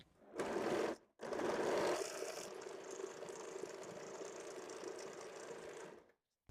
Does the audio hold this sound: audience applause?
no